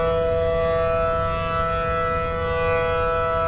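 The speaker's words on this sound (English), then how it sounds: "I mainly just want to get away from these sirens" Steady civil-defense sirens wailing in the Roblox storm-chasing game Twisted, a loud sustained tone held evenly with no pauses and no talking.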